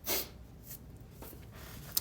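A congested, sick person sniffles close to the mic: one strong nasal snort at the start, then quieter breathy sniffs and a small click near the end, with no talking.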